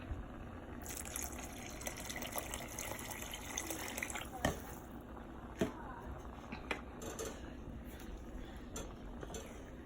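Broth or water trickling into a pot of rice and peas in a kitchen, a faint continuous pour with occasional light clinks of metal utensils against the pot.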